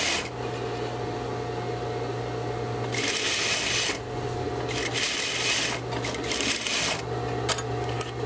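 A sewing machine stitches a knit T-shirt in several loud mechanical runs of rapid chattering, separated by brief pauses, over a steady low motor hum.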